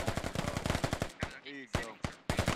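Machine gun fire in a World War II style combat video game, rapid dense bursts of automatic shots with short gaps between them, loud and close.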